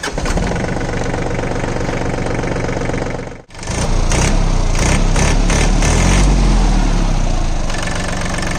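The 30 HP Yanmar diesel engine of a VST 932 DI 4WD mini tractor runs loud and close with a steady chugging beat, cuts out briefly, then restarts and keeps rumbling with rising revs.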